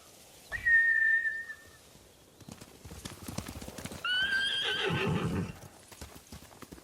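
In the video game Ghost of Tsushima, a horse gives a sharp whinny, then hooves clip-clop on hard ground before another loud neigh rings out over the galloping.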